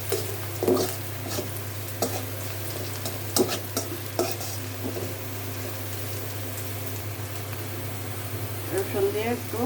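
Garlic is stirred and fried into a softened spice paste in a pan for pabda fish cooked with onion and tomato. A steady close sizzle runs under intermittent scraping strokes of the stirring spoon.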